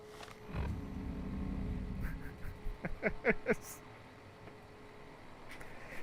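A short run of electronic chirps and beeps from a robot in the video game Fallout: New Vegas, four or five quick tones in a cluster, following a low rumbling hum, with faint talk in the background.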